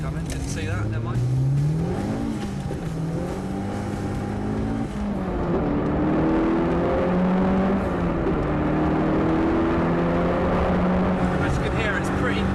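A turbocharged Fiat Cinquecento pulls onto a main road, its engine note climbing and dropping through gears in steady rising sweeps, heard from inside the car with someone talking over the continuous drone.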